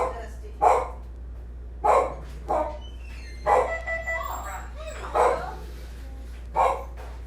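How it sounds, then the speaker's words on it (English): Dusty the dog barks in a series of about six sharp, loud barks spaced irregularly over several seconds, close by in a home kitchen, with a steady low hum underneath. "Good security dog."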